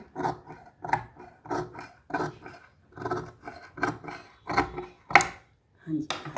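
Scissors snip through shirt fabric while a seam is trimmed, in a steady series of short, evenly spaced crisp cuts close by, with someone talking between them.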